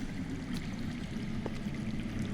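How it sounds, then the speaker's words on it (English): Underground water flows steadily in the Game of Thrones video game, a soft continuous gurgling rush at moderate distance with a few faint splashes and no talk over it. "That's water. I hear water. From underground."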